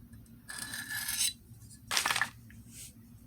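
A knife edge drawn in light strokes across a Diamond DMT DuoSharp extra-coarse plate to clear a burr: two distinct close rasping scrapes, each under half a second, with a faint brief scrape after them.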